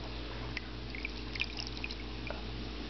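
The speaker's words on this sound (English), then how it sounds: "I'm going to fill it up with a little more water now, just to cover the entire cell" Tap water poured into an electrolysis cell trickles and drips in small splashes over a steady low hum, close and faint, with scattered brighter drops.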